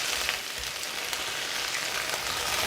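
Potatoes fry in a pan until golden brown, giving a steady, close, continuous sizzle and crackle with no pauses and no talking.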